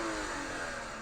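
A Toyota GR86 or Subaru BRZ engine with an Infinity cold air intake revving, a loud, sustained mid-pitched engine roar heard close and steady with no talk over it.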